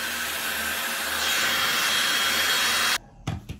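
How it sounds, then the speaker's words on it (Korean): A hair dryer blows over a freshly applied coating, a steady close whooshing drone for about three seconds before it switches off, followed by brief handling knocks. "이렇게 바르고 나서 드라이기로 말려볼게요"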